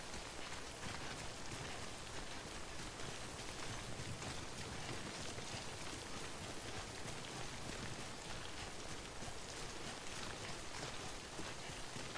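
Steady rain pours in the video game Death Stranding, a dense, even hiss of falling water and drops on surfaces that fills the whole stretch without a break.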